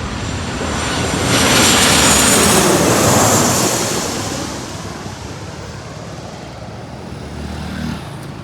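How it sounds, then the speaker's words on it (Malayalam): A loud airplane roar swells and then fades as the aircraft passes overhead on approach to land, its engine noise broad and rushing, with no voices. "ഒരു ഫ്ലൈറ്റ് ലാൻഡ് ചെയ്യാൻ കണക്കിന് ഇങ്ങനെ വരുന്നുണ്ടായിരുന്നു"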